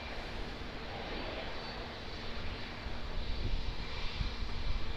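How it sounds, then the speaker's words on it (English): An Airbus A320neo airliner at Auckland Airport gives off a steady broadband jet roar that builds slightly toward the end, a continuous engine rumble with no voices over it. "So there's the A320neo there."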